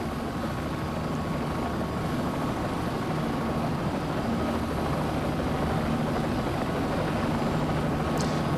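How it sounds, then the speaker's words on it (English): Bell 206 JetRanger turbine helicopter engine and rotor in the CowanSim flight simulator, a steady loud whine and thrum holding constant throughout with no talk. "Raising the collective, but not too much or you blow the engine, so the Jet Ranger is not a very powerful machine."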